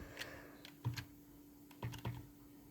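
Typing on a computer keyboard, several quiet clustered key taps with short pauses between them, close and alone.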